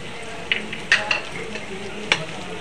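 Spice paste of ground cumin, coriander, black pepper, ginger, chilli powder and turmeric, stone-ground and thinned with water, stirred and fried with tomato for jackfruit curry: steady close sizzle under a few sharp spoon scrapes against the pan, no talking.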